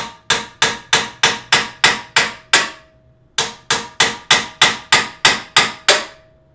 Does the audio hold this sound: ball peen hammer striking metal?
yes